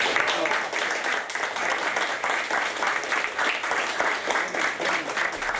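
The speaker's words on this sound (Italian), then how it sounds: "Un applauso commosso che vale più di 1000 parole." An audience at an inauguration of a dementia care center claps warmly, a dense, sustained wave of many hands that swells and dips slightly, fairly close and continuous.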